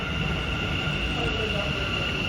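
A continuous low rumble and steady high whine of a Bengaluru metro train arriving, loud and close, holding constant throughout.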